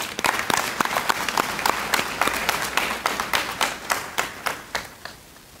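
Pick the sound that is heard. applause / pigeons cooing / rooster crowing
applause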